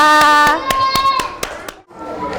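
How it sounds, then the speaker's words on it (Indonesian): Young classmates in an Indonesian classroom give a short burst of applause for a fellow pupil, a handful of sharp claps standing out over a voice talking and some sustained tonal sound. "Beri tepuk tangan buat teman kita."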